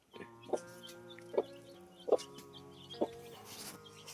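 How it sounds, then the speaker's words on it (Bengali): Small chickens on a farm in the Kalimpong hills of North Bengal cluck close by in four short, evenly spaced calls, fairly faint against a quiet background. "দেখছি ছোট ছোট কত মুরগি আছে"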